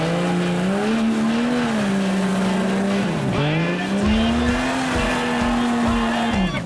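A Jeep Cherokee strains up an off-road trail at a Jeep club event in Paraná, its engine held at high revs in a loud, labored drone. The pitch dips and swells as it fights for traction.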